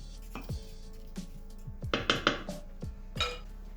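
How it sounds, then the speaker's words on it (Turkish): Metal clatter of a lid set onto a pot of strawberries in sugar, several clanks and clinks close by, followed by a final settling knock. "tenceremin kapağını kapatıyorum ve bir gece bekletiyorum"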